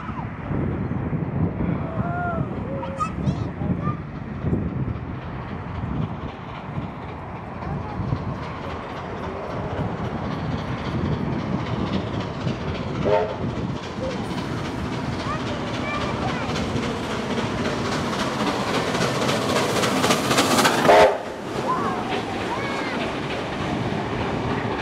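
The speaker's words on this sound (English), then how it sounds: "We conclude the day with 3237 on its third trip to Scarborough through Taraji." Steam locomotive 3237 passes on a trip to Scarborough in New South Wales, a continuous heavy rumble and rail clatter that builds and peaks near the end.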